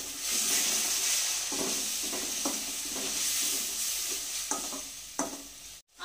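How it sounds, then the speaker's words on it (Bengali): Tomato paste sizzles and hisses in a pan of fried onions, with steady frying noise and a few scraping stir strokes throughout, close and fairly loud, with no talking. "এবার টমেটো বাটাটা আমি দিয়ে দিচ্ছি।"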